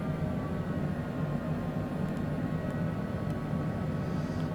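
A small airplane on approach to land at Bend, Oregon, descending toward runway 16, its engine and airflow a steady, loud, unbroken drone filling the cabin from start to finish.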